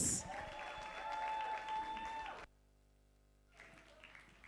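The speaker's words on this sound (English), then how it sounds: "Round of applause for her, please." An audience at a senior high talent show at Oshwal Academy Nairobi applauds the co-curricular coordinator coming up for the welcome address, steady clapping that stops abruptly, followed by a quiet pause and then faint room sound.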